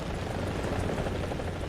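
In the War Thunder video game, a helicopter's rotor beats at a steady, close pulse under a muffled engine drone. The sound holds even and continuous, with no talk over it.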